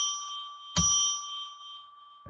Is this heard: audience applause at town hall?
no